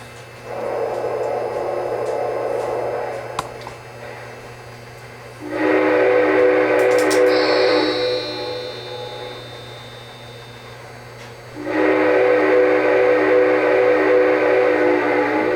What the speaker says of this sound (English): See this huge locomotive right through downtown.